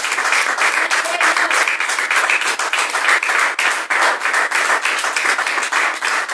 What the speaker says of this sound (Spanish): Dale palmas a papá.